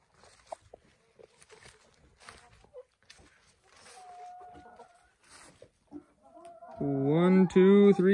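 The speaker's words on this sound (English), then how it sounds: "Oh, look at the chickens are making their way back into the coop for the night." Chickens heading back into a coop for the night give soft scattered clucks and calls, then a loud sustained squawking call at the end, with a faint voice briefly heard earlier.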